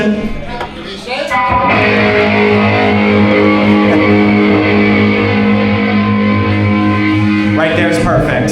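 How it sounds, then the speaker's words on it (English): Electric guitar through a distortion effect during a stage soundcheck, ringing out as a dense, sustained, loud chord that holds steady for several seconds after a brief opening strum, with no one talking. "Let's hear a distortion."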